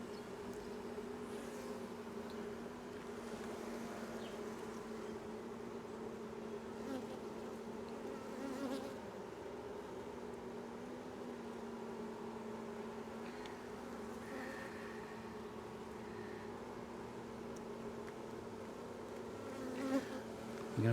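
Honeybees fanning in an open hive on a mild day with no brood, a steady, dense droning hum that holds throughout at close range, with only slight swells and no talking.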